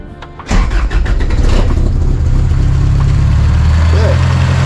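Toyota minitruck engine cranking and catching after a timing chain repair, then settling into a loud, steady close idle with a brief flare of revs.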